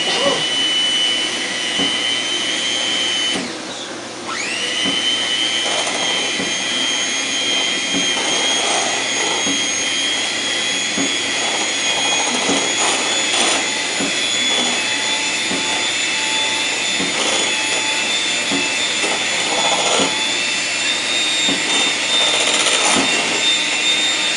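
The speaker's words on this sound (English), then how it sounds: "We use the mixer. Start off low." An electric mixer whirs steadily through birthday cake batter, a loud, close, continuous motor drone with a brief dip in pitch as the speed changes, running throughout without pause.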